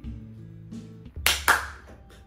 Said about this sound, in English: Y'all got that clapping light stuff.